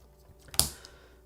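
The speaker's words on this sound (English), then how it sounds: "It is a looker of a keyboard and it sounds great." One crisp keystroke on a Manta custom mechanical keyboard cuts sharply through near silence, a single close click with a short tail.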